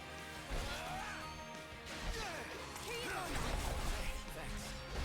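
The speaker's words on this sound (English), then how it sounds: "you'll hear that little potion, like, glass breaking sound every now and then" Glass potion bottles shatter in the video game Final Fantasy XV, several crashing breaks heard over game music and effects while a voice talks throughout.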